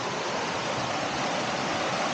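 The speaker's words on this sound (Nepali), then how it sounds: "बर्खाको खोला" A swollen monsoon stream rushes in the Nepali hills on the walk toward Jaljala, a steady, dense roar of flowing water filling the whole stretch without pause or voices.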